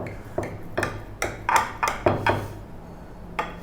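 A knife slices through a garlic, bacon and cheese potato cake, giving a run of soft, evenly spaced taps and knocks on a board, close and fairly quiet, with no talk.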